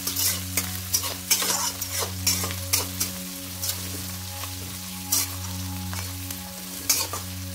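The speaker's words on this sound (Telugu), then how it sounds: "ఆయిల్లో ఉల్లిపాయలు, పచ్చిమిర్చి, కరివేపాకు వేసుకోండి" Onions, green chillies and curry leaves fry in hot oil with a steady close sizzle, punctuated by regular scraping stirs of a spatula in the pan; no one speaks.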